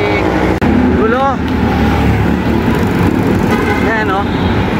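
Steady road traffic noise on a drive from Laguna to Cainta, a continuous engine and road rumble filling the whole stretch, with people talking over it throughout.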